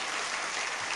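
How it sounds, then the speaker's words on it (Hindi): A dense burst of audience applause fills the room, steady and loud throughout the moment of clapping. "जोरदार ताली बजा दीजिए एक बार।"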